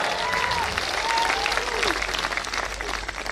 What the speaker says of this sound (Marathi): जोरात जोरात टाळ्या वाजवल्या